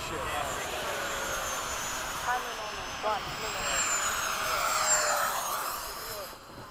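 F/A-18 jets flying in formation produce a continuous, broad jet engine roar with a slowly shifting whine, heard steadily, with faint voices audible beneath it.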